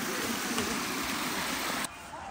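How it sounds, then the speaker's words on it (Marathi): Rainwater stream pouring over a small waterfall at a monsoon hill station, a loud dense rushing wash heard close by that drops off sharply near the end. "छोटासा वॉटरफॉल, पाण्याचा आवाज मस्त वाटतो"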